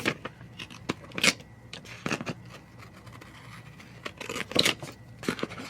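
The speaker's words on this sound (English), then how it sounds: "thankfully I'm using nonstick scissors, because this can get a little bit dicey if you don't" Nonstick scissors snip at a craft project up close, giving several short, sharp cutting crunches spaced irregularly across a quiet room, with no talk.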